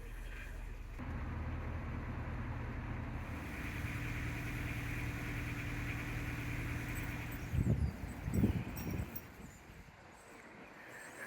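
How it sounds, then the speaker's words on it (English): A low, steady idle from a new narrowboat engine hums quietly throughout, with a few brief knocks and clatters near the end. "The engine sounds so quiet and smooth."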